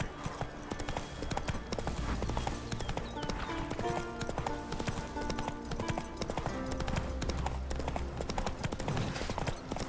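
Geralt's horse gallops in the video game The Witcher 3: Wild Hunt, with rapid, steady hoofbeats drumming continuously for ten seconds at moderate volume.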